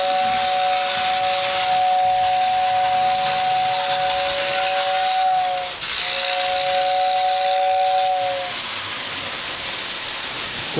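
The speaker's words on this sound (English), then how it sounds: "Quite the loud whistle." Lionel 671 model steam turbine locomotive blowing two long, loud whistle blasts, the second following a brief gap, over a steady background hiss.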